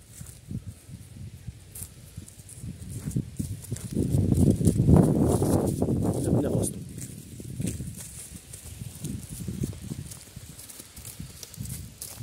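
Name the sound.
Kyrgyz horse walking, hooves clip-clopping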